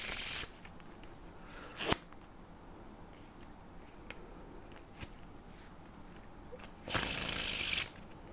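Playing cards riffled together in a faro shuffle, a burst of crisp ruffling at the start, a sharp snap near two seconds, faint ticks between, and a long loud riffle near the end.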